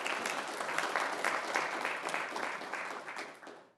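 Audience applause for a graduating student at a school district board of trustees meeting, a steady wash of clapping from a room of people that holds for several seconds and then slowly tapers off.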